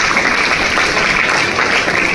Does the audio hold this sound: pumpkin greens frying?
no